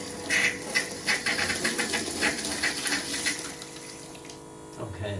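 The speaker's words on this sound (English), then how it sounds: "You can hear the pump on, so it should start spluttering in a moment, and then we've got water coming through." Water spluttering through a camper van tap while the water pump runs, bursts of irregular gurgling and sputtering close by, then easing off, with brief talk near the end.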